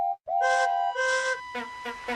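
Cartoon train engines whistle in steady tonal blasts, several sustained toots overlapping near and loud, followed by shorter repeated whistles, with no talk over them.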